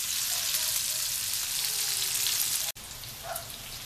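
Salmon browns in a hot pan with a steady, bright sizzle and crackle that runs continuously, close and fairly loud, broken by one brief dropout near the end; no talking.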